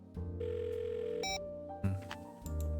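A telephone in the point-and-click game The Blackwell Deception gives a short series of electronic tones and beeps with a click, a quiet synthetic sequence ending in a sustained hum.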